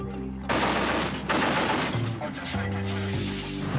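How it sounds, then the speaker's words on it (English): Naval ship's gun firing warning shots in bursts aboard a Royal Navy destroyer, loud rapid crackling volleys in several short clusters separated by brief pauses, over a steady low ship's hum. "S2, warning shots, burst fire, engage."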